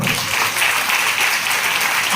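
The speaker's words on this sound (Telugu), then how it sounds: "చప్పట్లు కొట్టండి అందరూ." Church congregation applauds during an anniversary service, a dense, steady wash of many hands clapping at once, loud and sustained throughout.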